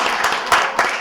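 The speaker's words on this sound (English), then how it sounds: "Applause." Audience applause for a storyteller at a Northfield event, a short burst of clapping with a couple of louder swells, fairly close and steady throughout.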